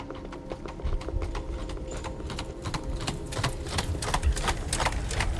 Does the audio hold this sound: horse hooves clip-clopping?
yes